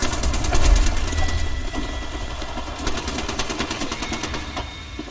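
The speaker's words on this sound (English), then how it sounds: "Reloading. Throwing an arc star." Rapid bursts of gunfire mixed with mechanical reload clatter from the video game Apex Legends, with dense repeated shots around the middle and end over a low rumbling background.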